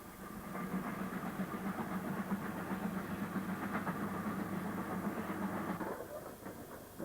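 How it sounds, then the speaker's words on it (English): A standard class 5 steam locomotive from Patricroft runs tender first through Miles Platting at a fair pace, a steady rumbling roll with rhythmic rail clatter that holds for several seconds, then drops away abruptly as it passes. "One of Patricroft's standard class 5s is tender first at Miles Platting at a fair pace."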